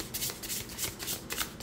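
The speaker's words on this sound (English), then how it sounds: "Yeah, I think this is a nice shuffle." A tarot deck being shuffled by hand, a quick run of crisp riffling and sliding card flutters, close and alone.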